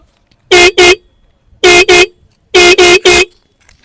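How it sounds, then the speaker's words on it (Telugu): Three bursts of loud, close horn honking from a modified 1978 Yamaha RX135 motorcycle: a double honk, another double honk, then a quick triple honk, with brief silence between. "ఒకసారి హారన్ విందాము"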